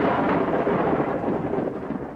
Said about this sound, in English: The hills echo the coming storm